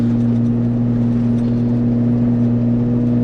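A vehicle churning along a soft sandy desert track in Murray-Sunset National Park, a loud steady engine drone and low whir heard from inside the cabin with no gaps.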